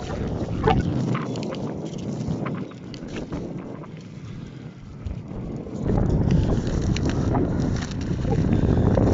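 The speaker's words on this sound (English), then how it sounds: "It's a very windy day." Strong wind buffets the microphone in gusts at a cemetery in Halifax, Nova Scotia, a dense low roar that swells and eases, louder again toward the end.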